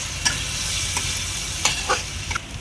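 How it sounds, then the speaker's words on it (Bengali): Spice masala for pomfret curry frying in a pan with a little water, a steady close hiss and sizzle with several sharp taps and scrapes of a spoon stirring, no voices. "অল্প অল্প জল অ্যাড করে আমি এই মশলাগুলোকে কষিয়ে নিচ্ছি।"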